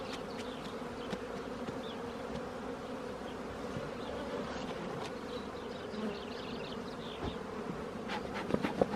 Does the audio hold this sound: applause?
no